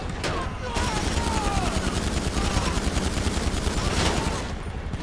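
A chain gun firing in GTA 5 Online, a sustained rapid burst of loud, dense gunfire that runs almost the whole time, with brief breaks near the start and the end.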